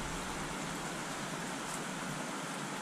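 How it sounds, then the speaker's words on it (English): Heavy rain pouring down steadily, a dense, unbroken hiss of falling water with no variation or pauses, close and filling the space. "It's pouring the rain now."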